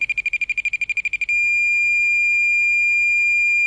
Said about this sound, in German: Kommen Sie zu nahe, wird das Piepsen zu einem Dauerton.